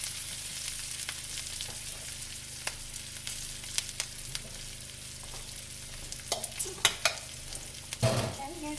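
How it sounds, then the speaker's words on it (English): Onions and garlic frying on the edge of burning, a steady close sizzle with occasional light spoon taps and scrapes that become busier toward the end. "My onions are starting to burn."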